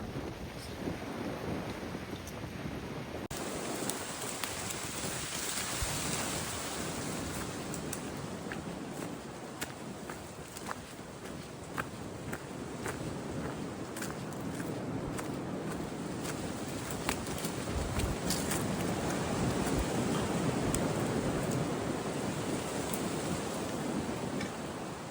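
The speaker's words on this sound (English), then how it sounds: "Trees are rocking today. Pretty high winds, would you say?" High wind rushing through trees beside a gravel road on an Appalachian Trail thru-hike, a loud, continuous roaring gust noise with buffeting against the microphone and no pauses for the full length.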